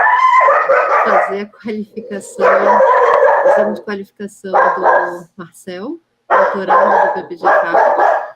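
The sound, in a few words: dog barking at home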